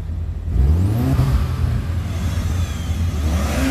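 A Toyota TRD truck engine revving hard with pops, close and loud, rising and falling surges of engine tone over a rough rumble.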